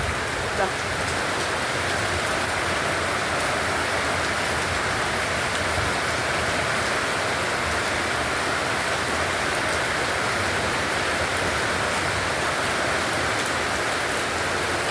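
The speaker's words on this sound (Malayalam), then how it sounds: "ഇപ്പം ശക്തമായ മഴ പെയ്യുന്നു" Heavy rain pours steadily in a Kerala garden with overflowing water, a dense, loud, unbroken hiss of drops on surfaces lasting throughout, close and even with no break.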